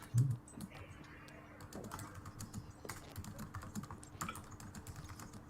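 Faint, rapid clicking of keys on a computer keyboard, continuous and irregular, heard from a short distance over low room noise.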